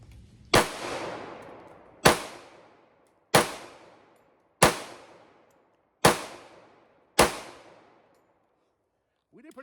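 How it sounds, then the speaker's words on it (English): Six sharp gunshots from a Remington 1911 R1S pistol firing hollow point rounds, spaced about a second apart, each with a loud crack and a decaying ring, close and alone. "so I'll shoot these"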